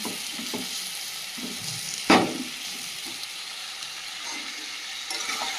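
Goat meat sautéing in a pan, a soft continuous sizzle with a few stirring scrapes and one sharp metallic clank partway through, close and moderately quiet.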